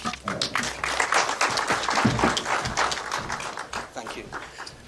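An audience at a polytechnic press briefing applauds, a dense burst of clapping that swells and holds for several seconds before thinning out, with no speech over it.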